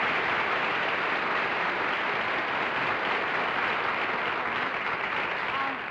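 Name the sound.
studio audience burst of applause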